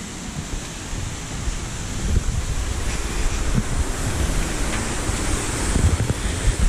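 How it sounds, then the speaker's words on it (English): A steady, broad rush of falling water from the Jesmond Dene waterfall roars continuously, with wind buffeting the microphone on top. "we're having a look at that beautiful waterfall"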